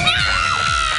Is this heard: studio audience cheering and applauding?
yes